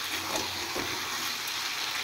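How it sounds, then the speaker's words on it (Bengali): Garlic, ginger, cumin and chilli powder sizzle in hot oil in a pan, a steady, close, hissing fry with faint stirring and no talk. "এটা একটু কষিয়ে নিই।"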